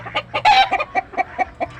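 Pet chickens, including a Texas bird kept upstairs, clucking close by in a quick, steady series of short calls.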